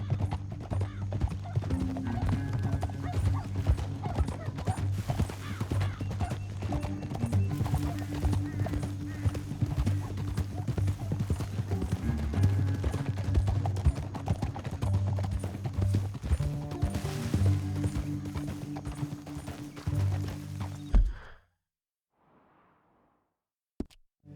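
Steady clip-clop of horse hooves at a trot in the video game Red Dead Redemption 2, with occasional whooshes and a brief whinny, continuous for about twenty seconds before cutting to near silence.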